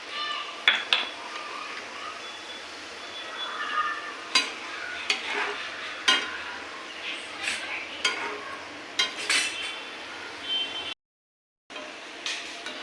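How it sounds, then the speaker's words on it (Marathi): Peanuts fry on a medium flame while being stirred in a pan until brown, giving a soft continuous sizzle broken by repeated scraping and clinking stirring strokes, close and moderately quiet, with a short silent gap near the end. "मीडियम फ्लेमवर आपल्याला मस्त तळून घ्यायचे"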